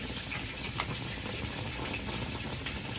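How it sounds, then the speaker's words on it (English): A pot of curry seasoning mixture comes to a boil, giving a faint, continuous bubbling and simmering hiss with occasional soft pops and no talk. "See, it's coming to a boil."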